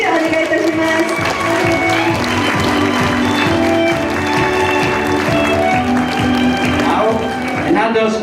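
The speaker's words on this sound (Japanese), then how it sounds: "もう一度大きな大きな盛大な拍手をお願いいたします" Audience applause at the 2017 World Photographic Cup award ceremony, broad sustained clapping from a large crowd blended with loud music carrying a thumping rhythmic beat throughout.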